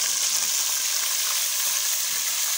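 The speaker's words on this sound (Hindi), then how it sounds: "अब इसमें साबुत गरम मसाले शामिल करेंगे, प्याज का पेस्ट डालेंगे।" Onion paste fries in a cup of hot ghee with whole garam masala for Mughlai chicken, giving a loud, steady, close sizzle with dense crackling and no talk.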